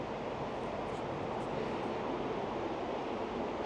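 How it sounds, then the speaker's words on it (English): Water pounding down at Multnomah Falls, a steady, dense broadband roar of falling and splashing water that holds constant and fairly close throughout, with no voices over it. "some of the water hits off that really hard, and it's really impressive."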